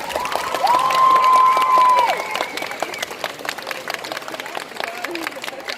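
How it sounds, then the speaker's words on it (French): At a cosplay contest on stage, a crowd claps and cheers loudly, a shrill whoop or shout standing out early on before the applause settles into lighter, scattered clapping. "Et on les applaudit encore bien fort!"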